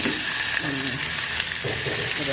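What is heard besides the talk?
ground pork frying in a pan with garlic and onion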